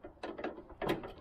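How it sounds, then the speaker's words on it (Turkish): Ratchet wrench on an extension bar backing out a car door lock screw: a few faint, quick clicking turns in a short burst, close up and quiet. "şuradan şu vidayı sökmemiz lazım. Uzatma koluyla."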